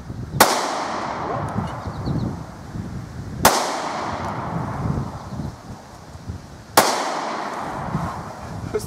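Three sharp, loud gunshots from a Smith & Wesson Shield pistol fired at Mountain Dew cans outdoors, spaced about three seconds apart, each followed by a short decaying ring over wind noise.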